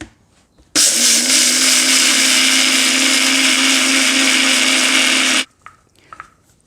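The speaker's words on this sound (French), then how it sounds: "c'est de mixer nos graines, parce que c'est des petites graines vraiment dures" A blender grinds small, very hard seeds into fine powder in one loud, continuous whirring burst of about five seconds, close up, with brief clatter after it stops.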